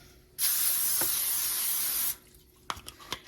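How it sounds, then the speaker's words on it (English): A steady hiss of cooking spray onto a pan for nearly two seconds, close and loud, followed by a few light clicks and taps. "spray your pan"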